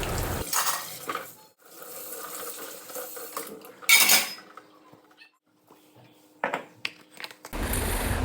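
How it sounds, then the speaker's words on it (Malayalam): Dishes and metal utensils are washed at a home kitchen sink, with clattering pots, clinking cutlery and bursts of running tap water in an irregular, close-up rhythm. "അങ്ങനെ പാത്രങ്ങളൊക്കെ കഴുകി വെക്കുകയാണ് കേട്ടോ"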